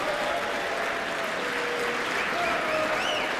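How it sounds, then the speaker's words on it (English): A congressional chamber audience gives a courtesy clap for Hakeem Jeffries, a dense, steady wash of applause that holds at an even level throughout, with faint voices mixed in. "they're giving a courtesy clap for Hakeem Jeffries"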